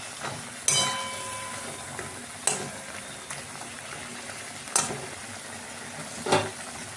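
Two pieces of rohu fish go into a pan of hot oil for doi pona, a yogurt fish curry. A few sharp splashes and crackles punctuate a steady background sizzle, and nobody speaks.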